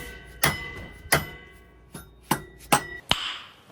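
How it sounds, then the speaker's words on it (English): Five or six sharp metallic taps from a mallet striking the clutch cover of a Can-Am Renegade 1000R ATV, spaced irregularly with short ringing decays, close by in a quiet room. "I'm gonna tap that with a hammer, mallet."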